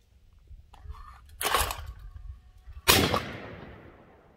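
A Tristar Trinity 16 gauge over-under shotgun fired with number six shot at clay pigeons outdoors, two sharp blasts about a second and a half apart, the second louder with a trailing echo, no talk.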